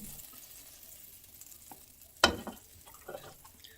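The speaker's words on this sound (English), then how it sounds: "We're going to add 2 tablespoons of butter." Two tablespoons of butter sizzling in a pan, a faint steady hiss with a sharp clatter or stir midway and soft scraping after.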